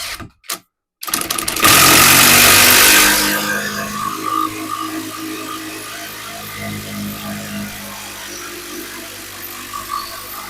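A Grosser GID 230N cordless impact driver on fourth speed drives a 40 cm construction screw, starting with a few short clicks before a loud close hammering burst that settles into a steady, quieter whir with faint knocking.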